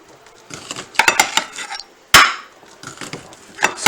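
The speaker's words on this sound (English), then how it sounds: "And I cut it on a plate because it's a lot safer." A knife slicing sausage on a plate as small pieces are cut, giving sharp close clinks and scrapes of metal on crockery in an irregular run of a dozen or so taps, with one louder knock midway.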